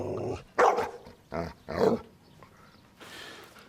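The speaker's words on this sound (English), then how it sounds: "Bad dog." A dog barks in a few sharp bursts with rough growling between them, close and fairly loud, followed by a fainter breathy snarl.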